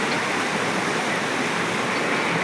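Floodwater rushes past during a heavy downpour, a loud, steady, unbroken roar of moving water with no talking.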